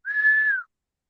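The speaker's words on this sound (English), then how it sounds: "So Percy blew his whistle." A single steady high-pitched whistle blast, clear and close, holding one tone for about half a second before cutting off.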